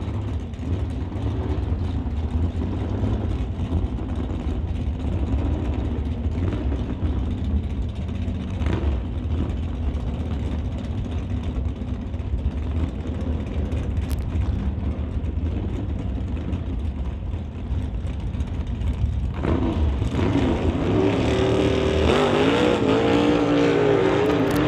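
Drag cars idle and rumble at the line, a 1969 Chevy Camaro against a Chevy II, with a loud continuous engine drone and mechanical rattling before a surge of rising engine roar near the end.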